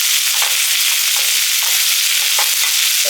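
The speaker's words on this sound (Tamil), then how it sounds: "நல்லா வதக்கிடுங்க." Greens and tomato flowers sauté in a hot oiled pan, giving a steady bright sizzle with occasional soft stirring scrapes throughout, fairly loud and close, with no voices.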